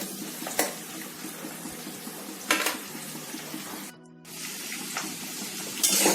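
Onions, capsicum and green chillies fry in a pan with a soft continuous sizzle, broken by a few scraping stirs of a utensil, close and fairly quiet, with no talk.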